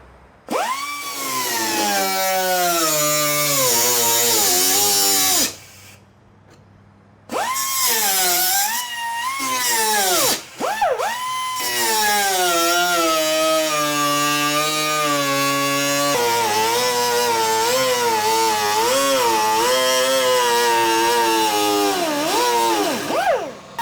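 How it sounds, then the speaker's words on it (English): Die grinder with a 1/16 cutting blade slicing through DeLorean sheet metal, a loud, high whining screech that rises and falls in pitch with brief pauses between cuts, close up and without talk. "we're using a standard die grinder with a 1/16 blade"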